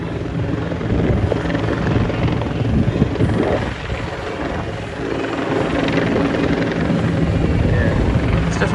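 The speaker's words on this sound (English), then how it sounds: "there's the chopper" A police helicopter flies low overhead during the Invasion Day rally and march from Hyde Park to Victoria Park, its rotor and engine roaring loud and close in a continuous, slightly swelling drone.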